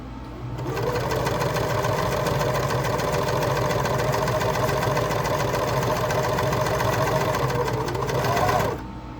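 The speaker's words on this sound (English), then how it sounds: "just making sure that there isn't any extra work for the sewing machine to pull that fabric through" A sewing machine stitches stretchy yoga-pant fabric steadily for several seconds, its fast mechanical whir and needle chatter holding an even pace before stopping abruptly.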